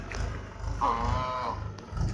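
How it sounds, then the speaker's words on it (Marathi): A large black Holstein Friesian dairy cow in her second lactation lets out a single short, fairly close moo lasting under a second, with low background rumble and no talking. "एकदम मोठ्या मापाची गाय"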